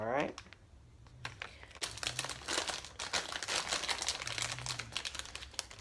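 A soft air-dry modeling material package is torn open by hand, giving close, continuous crinkling and ripping of plastic packaging that lasts several seconds, with a voice faintly underneath.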